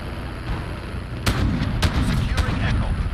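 Cruise missile strikes in the Call of Duty: Modern Warfare video game land as three or four sharp booms over a constant rumbling battle din, with faint talk underneath.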